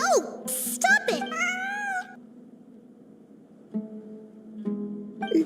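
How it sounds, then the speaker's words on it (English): A cat in Genshin Impact meows in a couple of rising, wailing cries near the start, then softer calls return toward the end. A quiet pause sits in the middle. "It really is a cat."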